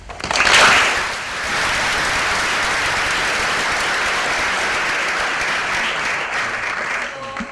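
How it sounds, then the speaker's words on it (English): A theatre audience at Prithvi Theatre breaks into sustained applause, with a louder burst at the start settling into steady, even clapping that continues to the end. "I think we should give them a round of applause."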